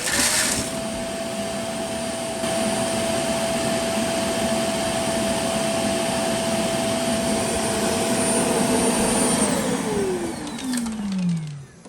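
Dreame Z10 Pro robot vacuum running indoors: a loud, steady motor drone with a whining tone that holds level, then sweeps downward in pitch near the end as the machine slows, with no voices.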